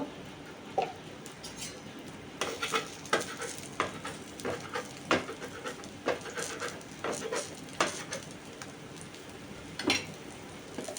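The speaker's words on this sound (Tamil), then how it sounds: "நல்லா கொஞ்சம் எண்ணெய் தாராளமாக விட்டுண்டு இந்த அடையை நல்லா மூணு மூணுன்னு வாக்க போகிறோம் நல்லா சுற்றி எண்ணெய் விட்டுக்கோங்க" Adai, a thick lentil pancake, fries in a generous amount of oil in a pan, giving a steady close sizzle broken by intermittent scraping and clinking of a spatula against the pan.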